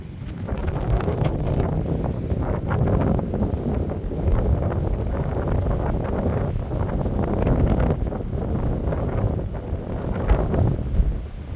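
Strong wind buffets the microphone at an abandoned ski resort in Japan, a loud, continuous, rumbling roar that surges and eases without letup, with no voices.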